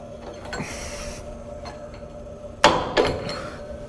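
A screwdriver works on the flywheel of a Rottler F10XS boring and surfacing machine, giving a few sharp metallic clinks and knocks near the end over a steady low machine-shop hum.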